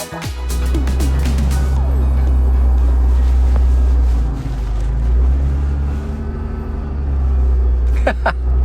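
A 1995 Honda NSX-R drives along with a loud, steady engine drone and deep road rumble heard from inside, the note dipping briefly midway before swelling again, with a few faint clicks near the end.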